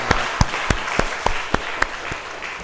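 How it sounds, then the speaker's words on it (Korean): A church congregation applauds in a brief burst of claps, close and lively, with a few sharper individual claps standing out over the crowd. "우리 하나님께 먼저 늘 그랬던 것처럼 박수 한번 올립니다."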